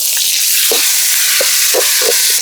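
Tomatoes frying in a pan for crab masala, a loud dense sizzle close up, broken by several scraping stirs of the spoon, with no voices.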